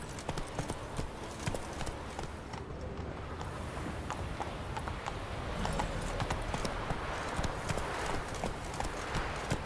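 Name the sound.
horse galloping, Roach in video game Witcher 3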